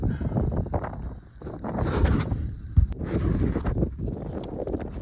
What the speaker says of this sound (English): I don't want anything getting damaged from this wind.